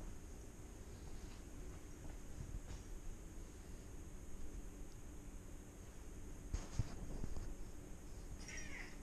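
A crow squawks repeatedly in the open air at a farmers market, its harsh calls faint against a steady background hiss with a few louder bursts near the end.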